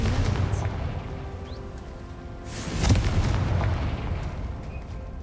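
A booming blast from the Confringo fire spell in the Hogwarts Legacy game lands midway through, a single loud explosive burst with a rumbling tail over low ambient game sound.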